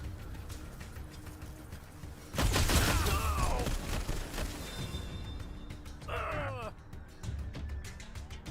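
Gunfire erupts in combat in the video game Wasteland 3 as a loud rattling fusillade breaks out midway, with mechanical clatter and a second burst of shots later, over a busy background of game noise.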